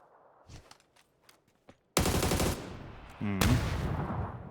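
A P90 fires in PUBG: quiet footsteps and light taps come first, then loud, close bursts of rapid automatic fire break in, pause briefly, and resume.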